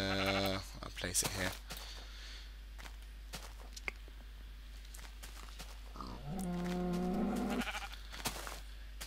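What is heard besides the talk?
sheep bleating in Minecraft video game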